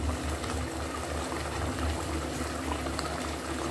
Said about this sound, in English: So I'm going to allow my chicken to continue cooking.